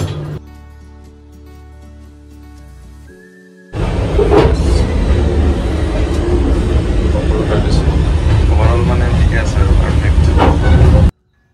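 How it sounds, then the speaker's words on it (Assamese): Aboard a Vistadome train departing on the Guwahati to New Haflong route, a quiet interior hum gives way to a loud, sustained rumble of the moving train, with people talking throughout. "এনেকৈ যাত্ৰা আৰম্ভ হৈ গ'ল এই ট্ৰেইনখন"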